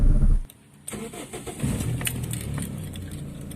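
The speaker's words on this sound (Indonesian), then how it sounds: "ini mobil sudah kita starter" A car engine is started by a learner driver: a loud starter crank catches, then settles into a steady, close idle rumble.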